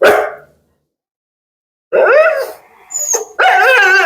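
A Rajapalayam dog barks loudly and close by, a sharp bark, a pause, then a quick run of three more harsh barks.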